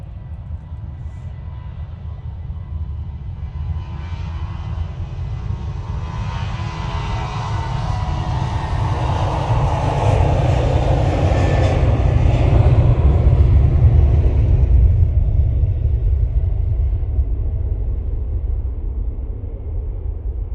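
An Emirates airliner at a gusty Manchester Airport, a deep engine rumble that builds to a loud roaring pass midway and then slowly fades, heard alone with wind buffeting the microphone.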